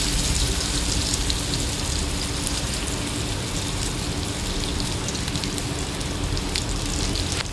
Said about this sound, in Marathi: इकडे मस्त पाऊस चालू आहे.